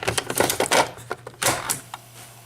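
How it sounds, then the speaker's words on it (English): An 8-track tape cartridge pushed into a player, a quick series of plastic clicks and clacks followed by a couple of sharper knocks, close and fairly loud. "Let's put our tape in."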